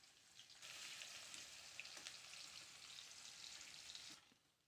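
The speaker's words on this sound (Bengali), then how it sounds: "পেঁয়াজটা ভালো করে ভেজে নেব।" Chopped onions with dried red chillies fry in a pan, a steady, soft, hissing sizzle that starts abruptly, holds for about three and a half seconds with faint crackles, then drops away, with no voices.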